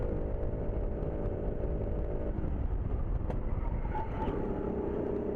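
A racing kart engine drones loud and close, its steady buzzing pitch shifting as another kart's engine pulls alongside during a race, a second engine tone rising near the end.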